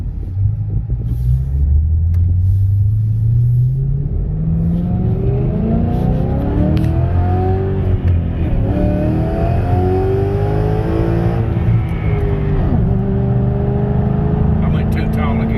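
A 2013 Ford Mustang with a 5.0L V8 accelerates hard on a test drive, its engine note climbing steadily through the revs as a loud, continuous roar with deep rumble underneath.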